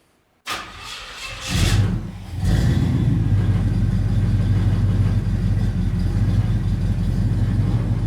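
An engine from an old abandoned Pontiac cranks over from cold after a moment of silence, catches and climbs into a loud, steady, slightly rattly idle that holds to the end.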